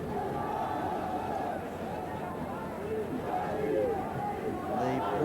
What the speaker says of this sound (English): The very partisan Pakistani crowd here, sensing that victory is theirs again, enjoying the fact.